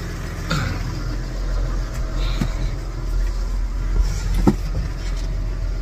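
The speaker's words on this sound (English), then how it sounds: "gonna take her for a ride in my big blue tractor" A big tractor engine idles and chugs steadily nearby during alfalfa baling, with a few faint knocks and rattles over the constant drone.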